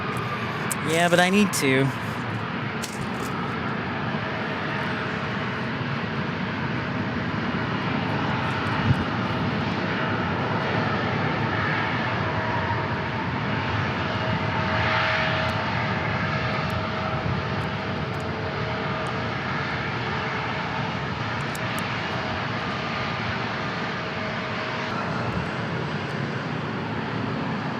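An airliner lands at San Diego International Airport, a continuous heavy engine roar that swells slightly midway, with a brief spoken remark near the start.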